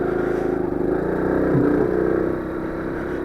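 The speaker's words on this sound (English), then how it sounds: "I've got a second gear chug on." A Honda CT110 motorcycle chugs along in second gear during a first ride, its engine giving a steady, close, low throbbing hum with faint mechanical clatter and no speech.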